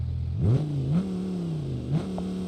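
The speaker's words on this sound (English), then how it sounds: "Sounds like we have a 5-cylinder FCV, probably all-wheel drive." Five-cylinder FCV car engine in BeamNG.drive revving up and down in short bursts, close and fairly loud, with a throaty mid-pitched tone and no talk over it.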